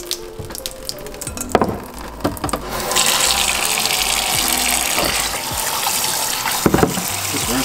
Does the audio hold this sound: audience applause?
no